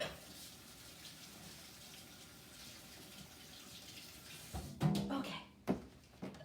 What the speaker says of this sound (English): I'm going to give my hands a rinse.